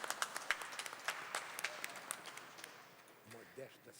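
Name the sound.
plenary session audience applauding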